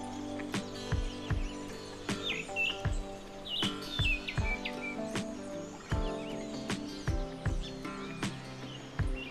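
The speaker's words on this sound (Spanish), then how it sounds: "el tucán pico de frasco se manifiesta saliendo de su nido en busca de alimento" Keel-billed toucans calling in Venezuelan cloud forest, with repeated sharp croaking and chirping notes in irregular bursts, close and fairly loud, over other birdsong and a steady forest background; no talking.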